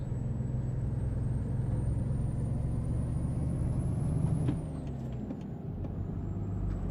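Steady heavy truck engine rumble heard in the cab in American Truck Simulator, with a rising high turbo whine, which drops off sharply, then the engine settles and the whine returns.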